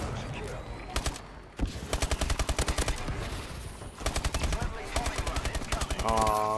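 Rapid automatic gunfire in an online multiplayer shooter match, several loud bursts of machine-gun fire in quick rhythmic volleys separated by brief pauses, ending in a tonal electronic game sound.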